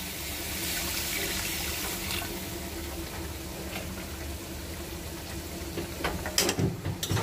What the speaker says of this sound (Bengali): পানি দিব কষানোর জন্য।